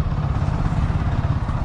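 Royal Enfield Himalayan motorcycle cruising on the road in third gear, a steady low engine thrum with rapid exhaust pulsing and wind rush, loud and continuous without pauses.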